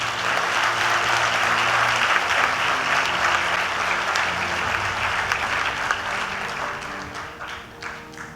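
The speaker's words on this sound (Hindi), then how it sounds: "उनके लिए एक बार तालियां बजा लीजिए" A crowd claps loudly and steadily for several seconds, then the applause thins and fades toward the end.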